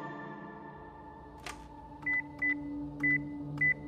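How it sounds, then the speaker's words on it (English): A telephone number is dialed: a clunk of the handset being picked up, then four short, evenly spaced keypad tones over a quiet hum. "So he picks up the phone and dials the number of one of his few remaining allies"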